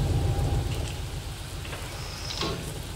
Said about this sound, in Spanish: Madre mía, cómo llueve